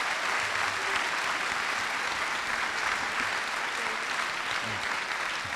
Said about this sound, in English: let me ask my community to not have applause between speakers